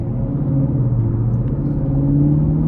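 Steady low V8 rumble from a 2016 Chevy Camaro 2SS convertible, a smooth, continuous drone with a slowly rising engine tone, heard up close with no talking.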